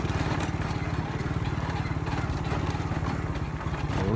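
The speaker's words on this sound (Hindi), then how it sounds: "स्कूटर भी खड़खड़ी करते हैं बेचारे।" A scooter engine rattles steadily, a rapid low chugging putter running close and continuous throughout with a faint background hiss.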